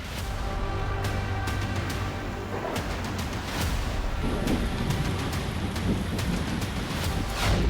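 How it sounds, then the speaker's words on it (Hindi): Heavy rain pours steadily during a night storm in Rajasthan, with rumbling thunder and gusting wind across the whole stretch, loud and close, no voices. "बिजली की कड़कड़ाहट के साथ भारी बारिश का दौर लगातार जारी है"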